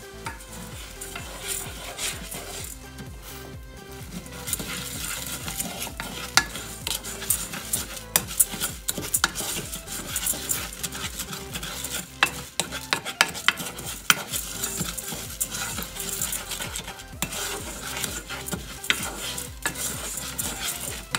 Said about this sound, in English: So now you have to make sure that you're mixing this so it doesn't stick.